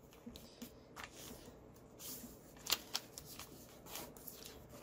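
A sheet of paper folded into a hammerhead paper airplane wing makes soft, close crinkles, rustles and sharp creasing swipes, quiet and scattered across a few seconds.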